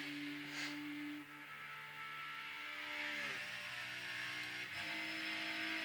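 Race car engine from the Forza 7 video game holding a steady high-pitched drone through a lap, with gear-shift dips and pitch drops around the middle and near the end, loud and close with no talk.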